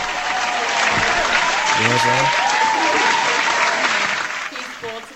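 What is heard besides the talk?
applause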